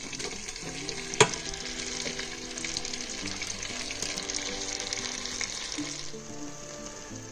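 Curry paste hits hot butter and oil for a chickpea and sweet potato curry, giving a sharp splash at first and then a steady, bright sizzle that holds before easing off near the end.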